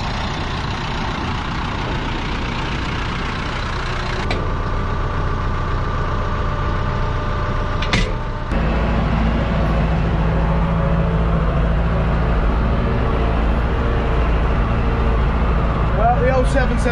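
A John Deere-style 7710 tractor engine idles and runs steadily close by, a continuous low diesel rumble that shifts in pitch partway through as it is throttled down.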